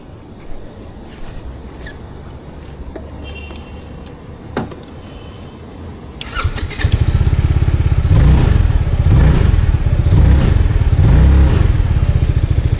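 A 2024 Zontes 368e motorcycle engine: faint clicks and handling noises at first, then about halfway through the engine becomes loud and close, with a steady, throbbing exhaust note that continues to the end.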